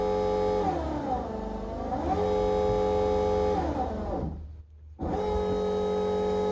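A Fuelab variable-speed brushless fuel pump runs at high speed with a loud, steady electric whine. Its pitch sweeps and shifts under PWM control, then drops out briefly before resuming.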